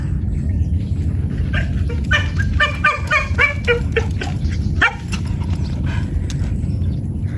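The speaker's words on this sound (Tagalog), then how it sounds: "At ayan po yung ating mga aso." Dogs bark outdoors in the Philippines, a run of quick repeated barks in the middle of the stretch over a steady noisy background, moderately near, with no talking.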